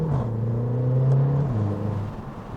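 A 410hp Mercedes A45 AMG pulls away with a steady engine drone that shifts down in pitch partway through, then fades slightly as it moves off.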